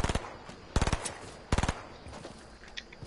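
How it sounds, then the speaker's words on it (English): Rapid automatic gunfire in the Fortnite video game, several short sharp bursts of closely spaced shots followed by fainter scattered single shots, loud and near with no talking. "Yes, I've just been shot at."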